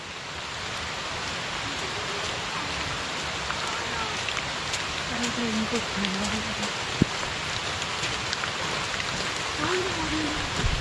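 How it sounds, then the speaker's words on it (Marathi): Steady rain patters down in a forest on the Bhimashankar jungle trek in a soft, even hiss that stays constant throughout, with faint voices now and then in the background. "पाऊस आलेला आहे"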